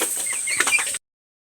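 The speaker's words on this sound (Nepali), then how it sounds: "आज खोरमा छु अनि मसँगले चल्ला लगभग 20वटा छ" Local chickens in a coop with about twenty chicks, a short burst of close clucking and chirping with a flutter of wings, cutting off abruptly after a second.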